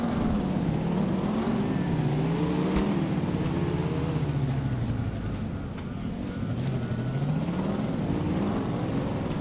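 A car drives along a beach in a video game, a steady engine drone whose pitch rises and falls in smooth waves, continuous and moderately loud throughout.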